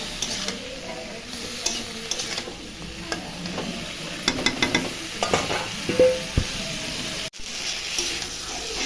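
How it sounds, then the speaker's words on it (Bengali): Vegetables with turmeric and salt fried in a pan and stirred, giving steady close sizzling with scraping strokes and light clinks of the utensil, with no one speaking. "সবজিটা নাড়াচাড়া করে একটু ঢাকা দিয়ে দিব"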